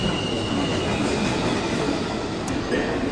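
A New York subway train at a station platform gives a loud, continuous rumble with wheel squeal and rail clatter that fills the whole stretch.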